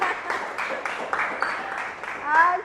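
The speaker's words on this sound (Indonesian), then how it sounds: "aplaus buat teman kita" A short burst of scattered clapping for a fellow participant in a university teaching-training class in Bengkulu. The applause is light and uneven, with people talking and cheering over it.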